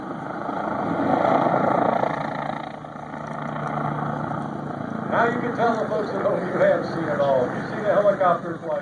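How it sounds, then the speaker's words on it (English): An aerobatic helicopter rolling and diving at the Oshkosh airshow, its rotor and engine drone steady and loud, then turning choppy and pulsing as it maneuvers. "helicopter flight. Rolls, aerobatics par excellence."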